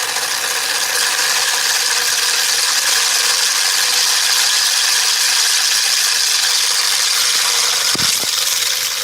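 Two counter-spinning magnetic discs turning over six wire coils make a loud, steady mechanical whir that carries on without a break, with a pair of sharp clicks near the end.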